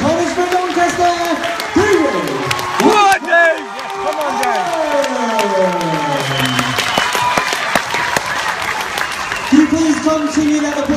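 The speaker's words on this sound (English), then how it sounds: "continue that applause for Gallant's opponent, Jindrik Walecki." A boxing arena crowd applauds and cheers after a knockout, a dense wash of clapping and shouts running throughout while a loud announcer's voice carries over it.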